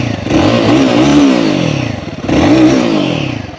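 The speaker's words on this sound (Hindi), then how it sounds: "इस बाइक का कुछ एग्जॉस्ट नोट इस प्रकार है।" A Royal Enfield Gorilla 450 motorcycle's exhaust revs up loudly twice, each throaty rise swelling and then easing off, close by and with no talk over it.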